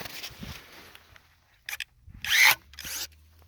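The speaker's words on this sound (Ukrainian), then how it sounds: "Без проблем ріже чистенько. І це грубе дерево" A START PRO SAP-21/28BM brushless cordless pruning shear snips through a thick tree branch, giving a few short, close motor whirs with crisp cutting bursts separated by brief pauses.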